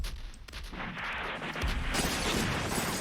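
Machine gun fire sound effects in a song, with rapid bursts and booming shots layered thickly over three seconds, growing louder and denser toward the end.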